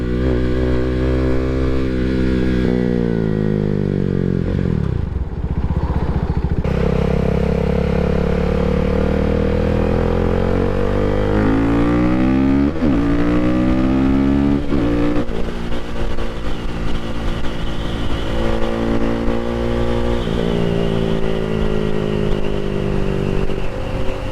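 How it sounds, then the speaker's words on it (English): Motorcycle fitted with a Leo Vince exhaust, revving loud and close as the throttle is repeatedly rolled off and rolled back on, the engine note sweeping down and up in steady waves for the whole stretch. "I'll do some more intentional roll-offs the throttle and roll on the throttle."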